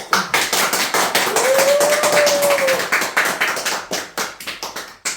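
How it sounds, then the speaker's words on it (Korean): Audience at a Korean business seminar claps in a dense burst of hand claps, loud and close, thinning into scattered claps toward the end with a brief tonal whistle-like sound in the middle. "박수!"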